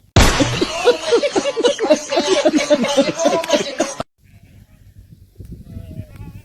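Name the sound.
goats bleating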